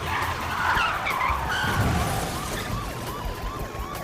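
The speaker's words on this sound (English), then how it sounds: "The suspect grinds through the intersection and slams his car into the side of another vehicle in crossing traffic." A fleeing car with a blown right front tire grinds and skids on its bare steel rim through an intersection during a police chase, a continuous harsh scraping screech with a wailing siren behind it.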